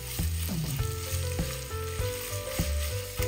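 Chopped onions and green chillies frying in hot oil in a pan for vegetable dum biryani, a steady close sizzle with several soft stirring knocks and scrapes, no voices.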